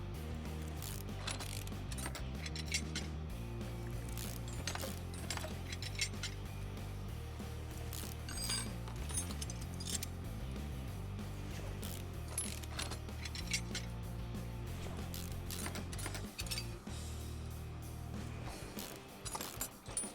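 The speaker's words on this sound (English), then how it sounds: "Getting these rod caps off so that we can get the pistons out." Connecting rod caps being removed in Car Mechanic Simulator 2018: steady looped ratcheting and clicking metallic mechanism sounds, repeated continuously with small clinks, over a faint background.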